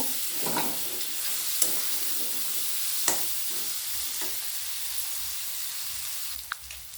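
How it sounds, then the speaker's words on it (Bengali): A spoonful of garlic paste fries with onion in a pan for a crab curry, producing a soft, steady sizzle with a few sharp stirring taps and scrapes. "এক চামচ রসুন বাটা দিয়ে দেবো দিয়ে আবারও কিছুক্ষণ আমি ভেজে নেব"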